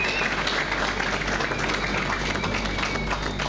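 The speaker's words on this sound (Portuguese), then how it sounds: "uma salva de palmas bem fortes para a Associação Médica" Applause from an audience at an association meeting in Beira, Sofala, a dense, steady patter of many hands clapping throughout, fairly close and continuous with no voices standing out.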